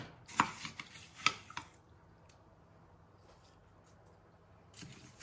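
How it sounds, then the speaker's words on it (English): Kombucha granita scooped from a container: a few crisp, crunchy scrapes of icy crystals in the first second and a half, then near silence with faint room noise and a soft rustle at the end. "Scoop the granita out."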